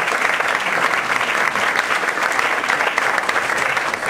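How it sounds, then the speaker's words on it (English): A presentation audience claps in a dense, steady round of applause that stays loud and even from start to finish. "Let's give Tom another big round of applause."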